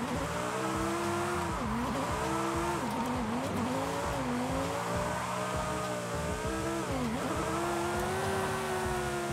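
A Lamborghini Huracan drifts in the racing game Forza Horizon 5. Tires squeal continuously in wavering, sliding tones over a high-revving engine, and the sound holds loud and steady throughout without talk.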